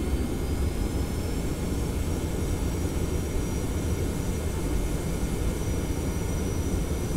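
A TFDi Boeing 717-200 airliner on approach in the Prepar3D v4 flight simulator, a steady, loud jet engine and cockpit roar that drones on unchanging throughout.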